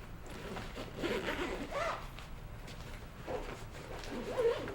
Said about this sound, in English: All zips up.